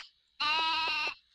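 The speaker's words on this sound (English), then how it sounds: "Hey look, it's a sheep!" One drawn-out sheep bleat from the Harvest Moon 64 video game rings out clearly and alone for under a second, with a wavering, buzzy tone.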